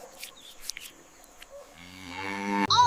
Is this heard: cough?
no